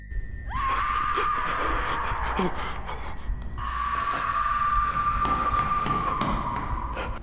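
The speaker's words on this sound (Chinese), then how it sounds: "洞穴里还传出了女人无比凄惨的喊叫声" In a cave in a Canadian found-footage horror film, a woman lets out two long, sustained, high screams, loud and strained, over a dark rumbling background.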